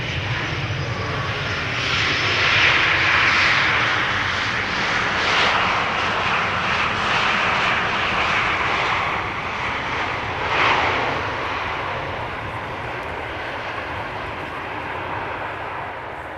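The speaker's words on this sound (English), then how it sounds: "It's an E2 Embraer 195 coming in from London Heathrow." KLM Embraer E195-E2 airliner arriving from London Heathrow and landing at Amsterdam Schiphol Airport, a loud sustained jet engine roar that swells and then slowly fades as the aircraft passes, with no voices.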